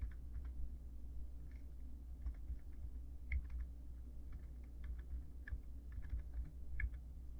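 Steady, quiet keystrokes on a computer keyboard at a cluttered desk while coding in C++, irregular clusters of soft clicks over a low hum, no voice.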